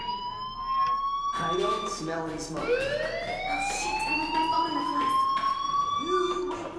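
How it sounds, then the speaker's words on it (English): An electronic fire alarm in the video game Life is Strange wails with rising and falling tones, loud and continuous, over game ambience and background sound. "do you hear that fire alarm?"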